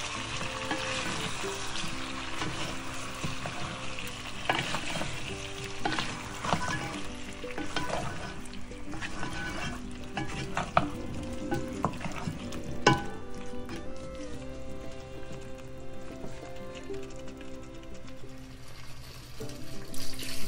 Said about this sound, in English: I give it a stir